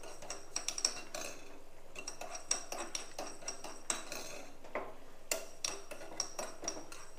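Fenugreek seeds dry roasting in a pan over low heat, with light scattered scrapes and clinks of a spoon against the metal pan, fairly quiet and close, with no one speaking.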